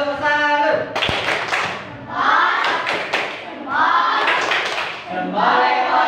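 Classroom of students doing a rhythmic salute clap during a lesson, bursts of group hand clapping in quick patterned beats alternating with a teacher's voice and children chanting along.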